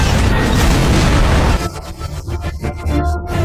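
Bomb blasts against tanks in a WW2 movie battle scene: a heavy, roaring explosion rumbles loudly for about a second and a half, then breaks into scattered cracks, pops and debris over a lingering low rumble.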